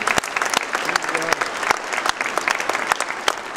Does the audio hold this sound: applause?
yes